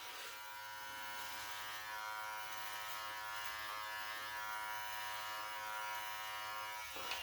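An electric trimmer cuts along a neck beard, a close, steady buzzing hum that runs continuously for about seven seconds before switching off.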